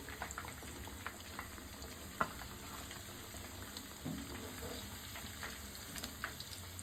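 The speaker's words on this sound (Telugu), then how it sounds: "ఇవన్నీ ఇట్లాగానే ఫ్రై చేసుకోవాలి" Fish pieces fry in oil with a quiet, continuous crackling sizzle, with occasional soft clinks and one sharper tap, heard close and without talk.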